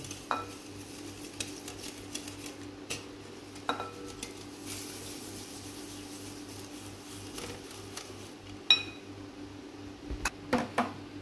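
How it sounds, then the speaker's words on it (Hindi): Two eggs beaten with a utensil in a bowl for sweet paratha batter, giving a steady run of scraping, clinking strokes against the bowl with a few sharper knocks near the end. "अब हम इसको अच्छी तरह फेंटेंगे।"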